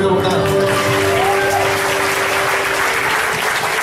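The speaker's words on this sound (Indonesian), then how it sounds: "sekali lagi beri tepuk tangan" A church congregation in Singkawang gives steady applause, with a sustained tone or music running underneath and possible voices mixed in.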